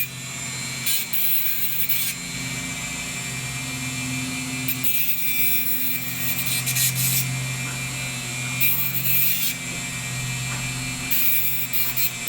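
Steel wire spears for 28mm miniatures are sharpened with a hand file, giving close, steady rasping strokes that repeat in bursts with no voices.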